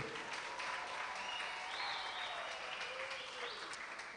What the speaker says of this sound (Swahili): Simameni tumpe makofi mengi waziri wetu.